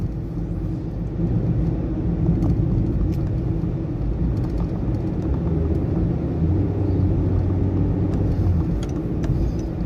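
Steady low road and tire roar fills the cabin of a moving 2019 Honda Jazz, a constant rumbling hum with no speech over it.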